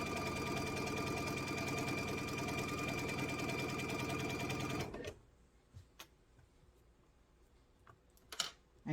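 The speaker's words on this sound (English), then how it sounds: "So I'm going to go ahead and I'm going to sew these on." Sewing machine stitching appliqué pieces onto a lavender garden table runner, a close, steady, even whir for about five seconds, then stopping, followed by quiet handling clicks and faint rustling.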